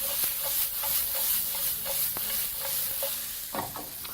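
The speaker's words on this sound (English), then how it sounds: "this particular process is basically just to sweat out your onions" Red onions sweating in a frying pan, a gentle sizzle under repeated light stirring and scraping taps, close and steady with no voices.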